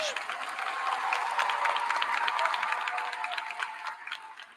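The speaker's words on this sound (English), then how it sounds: "How about one more round of applause for a great speech?" Warm, sustained applause from a large crowd at a high school commencement ceremony after a speech, steady dense clapping that slowly tapers off toward the end.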